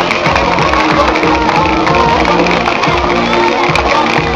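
Loud cheering and shouting from a crowd at a cosplay contest during an anime concert in Guatemala rises for all the participants, a constant dense roar with scattered whoops and no speech on top.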